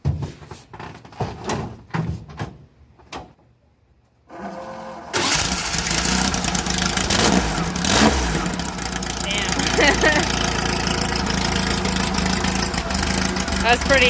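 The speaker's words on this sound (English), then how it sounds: "First real start with this new engine." A newly built 2276cc car engine cranks in a few short bursts on its first start, then fires and settles into a loud, steady running roar close by.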